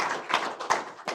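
Applause from the audience at a county board of supervisors meeting, a short burst of clapping with a few sharper claps standing out, moderately close and with no talk over it.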